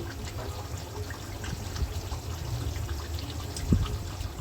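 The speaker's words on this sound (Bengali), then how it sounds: "এক কাপ নারকেলের দুধ দিয়ে দিচ্ছি" Thick coconut milk pours and trickles steadily into a pot of duck curry for a few seconds, close and fairly soft.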